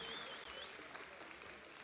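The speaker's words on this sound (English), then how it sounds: "Can we have a big round of applause, please, for all of our recipients today" Audience applause for award recipients and their families at a school district athletic hall of fame induction ceremony, a steady, moderately faint wash of clapping with a faint tonal sound running through it.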